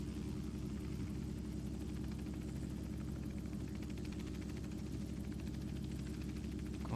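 Simulated Robinson R44 helicopter in X-Plane 11 during autorotation practice, with a steady low rotor thrum and engine drone holding evenly throughout, quiet and unbroken, with no voices.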